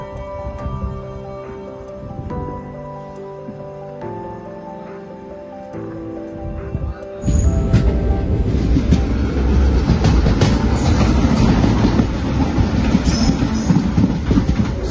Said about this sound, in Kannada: ಇನ್ನು ನಮ್ಮ ಟ್ರೈನ್ ಹೊರಡ್ತಾ ಇದೆ.